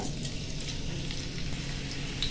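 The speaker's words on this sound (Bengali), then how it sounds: "তেল গরম হয়ে গেছে, এখন দিয়ে দিচ্ছি পেঁয়াজ কুচি।" Chopped onion is dropped into hot oil in a wok, giving a dense, even sizzle that stays loud and close for the whole short stretch, with no talking.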